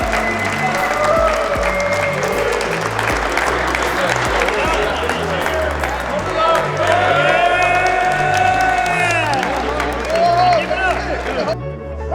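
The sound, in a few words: crowd applauding and cheering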